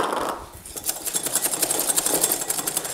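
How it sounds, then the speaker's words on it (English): Corn flour and tapioca flour are whisked into a loose white batter, making fast rhythmic ticking and clicking strokes against the bowl that grow steadier and louder after a brief quieter start, close up with no talk. "I'm just gonna whisk that together until it looks like a sort of loose white paste"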